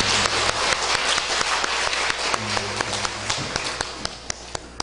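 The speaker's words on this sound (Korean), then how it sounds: "하나님께 영광의 박수 올리겠습니다." Congregation applauding during a church service: a brisk round of clapping that thins into a few sharp, separate claps near the end, with faint voices in the background.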